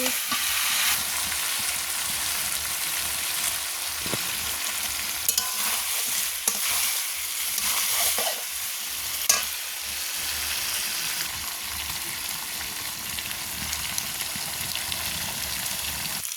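Pigeon meat fries in a pan while being stirred, a continuous loud sizzling hiss with occasional scrapes and clinks of the spoon against the pan, close and alone.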